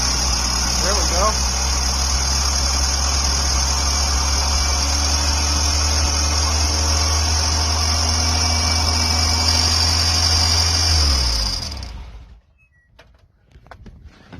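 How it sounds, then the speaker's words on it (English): A swapped Suzuki 2.3 engine in an overland Geo Tracker runs loud and close, its revs climbing and holding high for about eleven seconds before it cuts off into near silence. "Okay, so it's running way shooting up in the RPMs."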